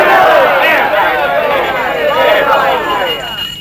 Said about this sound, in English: Let's have a cheer for gold.